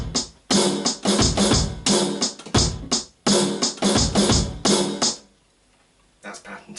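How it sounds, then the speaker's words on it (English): A drum kit plays a rock beat with a little shuffle on the snare drum, loud and steady over several bars before stopping, followed by a brief faint bit of sound. "there's like a little shuffle on the snare drum"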